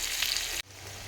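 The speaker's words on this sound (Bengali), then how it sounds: "এবার আলুটাকে আমি ভালোভাবে ভেজে নেব" Potatoes frying in a pan for chicken curry give a steady loud sizzle that cuts out abruptly just past the halfway point, then resumes more softly.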